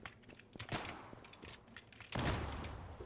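Gunfire in the online shooter Zula, faint bursts of shots scattered through the clip with a louder, sustained volley near the end.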